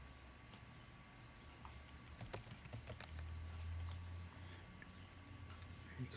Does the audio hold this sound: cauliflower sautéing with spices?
no